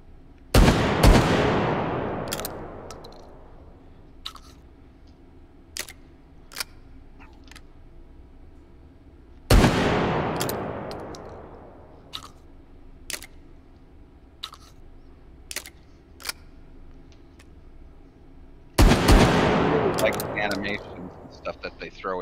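Double-barrel shotgun fired in the VR shooting game H3VR: three loud, booming shots about nine seconds apart, each with a long decaying tail, and small mechanical clicks of handling in the gaps.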